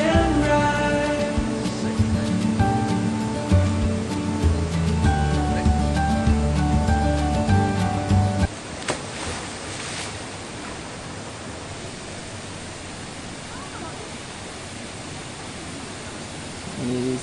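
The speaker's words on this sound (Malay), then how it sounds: "Ni suasana sungai." A river at Rock Lemon Campsite in Negeri Sembilan flows with a steady broadband rush, which comes in alone after music fades out about halfway through.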